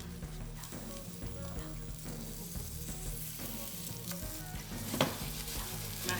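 Turkey burgers fry in vegetable oil in a pan, giving a steady close sizzle and crackle with small pops throughout and no talking.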